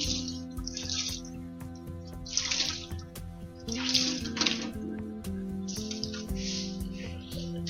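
A damp cloth is rinsed under a running tap, water splashing in several bursts over a steady flow, close and fairly loud, with no talking.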